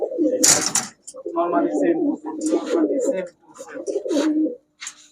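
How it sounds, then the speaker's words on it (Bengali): Low, throaty cooing of pigeons repeats in several close bursts, with a brief noisy flutter near the start. "রিয়াদ ভাই আর আর কোনো কবুতর দিবেন এই প্যাকেজে"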